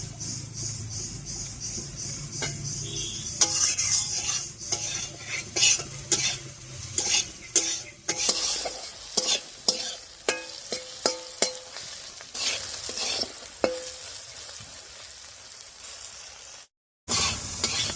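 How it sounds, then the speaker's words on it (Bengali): Eggplant sizzles and crackles as it fries in a pan with oil, with frequent stirring clatter from a utensil, steady frying hiss throughout and a brief dropout near the end. "বেগুনটা ভাজা হয়ে গেছে"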